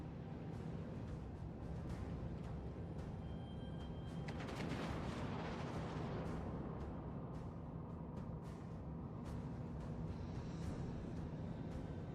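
Naval guns fire on an enemy warship in a video game: a single heavy boom bursts out mid-clip over a steady engine and sea rumble, then tails off into a lingering roar.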